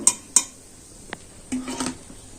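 Fried langcha sweets are lifted out of hot oil with a metal utensil, giving a few sharp clinks against the pan followed by softer scraping and dripping sounds, close and fairly quiet with no talking.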